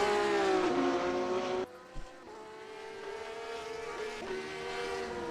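GT3 race car driving through the S turns at Road Atlanta, a sustained engine note rising and falling through the bends, loud at first then dropping after a sudden cut to a more distant drone.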